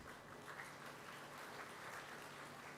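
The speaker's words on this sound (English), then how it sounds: "Let's give them a huge round of applause as they inspire new students." Audience applause at a university B.Tech orientation day, a steady, faint wash of clapping from a crowd that holds evenly throughout with no voices on top.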